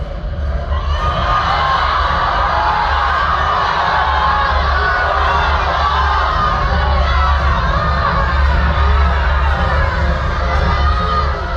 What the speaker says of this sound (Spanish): Cuando la gente lo vio, comenzó a gritar